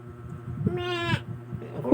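A goat bleats once, a loud wavering cry lasting about half a second, over low background murmur and room noise.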